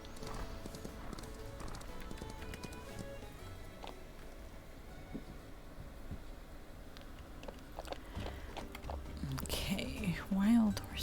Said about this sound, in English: get the wild horses first.